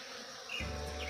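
Bees of many kinds swarm over jerivá palm flowers outdoors, a steady close buzzing that swells louder halfway through as one insect passes near.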